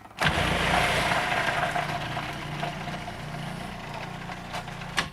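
A food processor motor starts abruptly and whirs loudly as it chops cabbage for sauerkraut, a steady close drone that eases slightly before a couple of clicks at the end.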